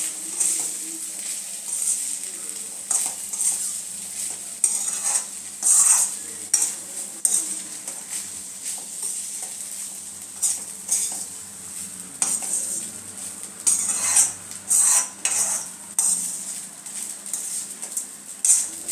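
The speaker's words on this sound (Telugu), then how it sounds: "ఇప్పుడు నీట్గా వైట్ రైస్ని అన్నిటిని మనం నీట్గా కలుపుకునేద్దాం." Cooked white rice and green peas being stirred together in a pan: a spatula scrapes and taps against the metal in irregular bursts over a faint sizzle, fairly close, with no talking.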